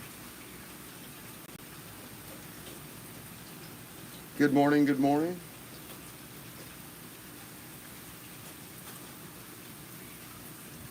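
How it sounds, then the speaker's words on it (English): Steady rain from Hurricane Ian falls continuously throughout, a soft broadband hiss, with someone briefly talking partway through. "it's still raining."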